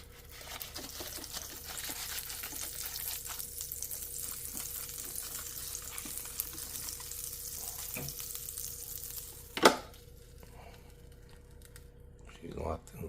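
Butter sizzling on a hot waffle iron, a steady soft frying hiss running through the whole stretch, with a sharp clack near the end and a person speaking intermittently over it.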